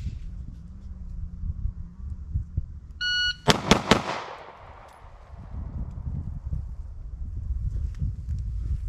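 A rapid double-tap burst of gunshots from a handgun rings out close and loud, sharp cracks in quick succession followed by a decaying echo, set against steady outdoor background rumble with no talk.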